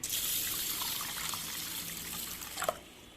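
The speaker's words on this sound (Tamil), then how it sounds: "இது நல்ல ஒரு கப்பு தண்ணி போட்டு வச்சிடலாம்" Steady trickle of a cup of water pouring into washed rice, a soft continuous splash that ends with a brief clink near the close.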